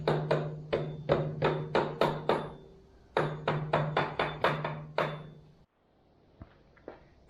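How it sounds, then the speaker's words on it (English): Sharp metal hammer strikes ring out on a part of an 80-year-old Ford 8N tractor, two quick bursts of about eight rapid blows each, close and loud with a ringing tone, then near silence. "Couple of big hits on the hammer"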